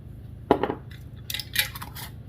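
Pickled cucumber and onion slices seasoned with salt and pepper being mixed in a bowl, a few short clinks and scrapes of utensil against dish, close and fairly quiet, with no talking.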